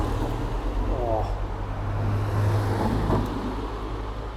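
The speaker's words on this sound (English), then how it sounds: "Once this car passes." A car passes along a city street near a building with tall chimneys, a steady low engine and tyre rumble under traffic noise, with a voice speaking over it.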